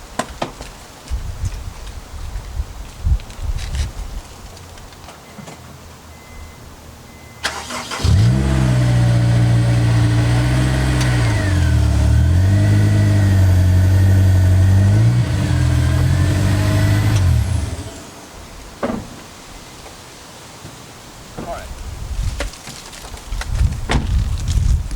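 A Honda S2000 starts up, then revs steadily for about ten seconds while backing onto 2x4 boards, a close, loud engine drone that drops back to quiet, with faint shuffling before and after.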